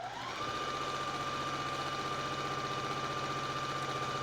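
Sewing machine stitching quilt columns together, running as a steady rapid mechanical hum with a fine repetitive needle rhythm and a constant whine throughout, loud and alone.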